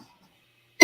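A single short, loud cough bursts out at the very end, following near silence; the person coughing is a guest on a show.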